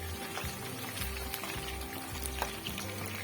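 Chicken frying in a kadhai over a medium flame, giving a steady, soft crackling sizzle with faint pops throughout, close and continuous with no voices.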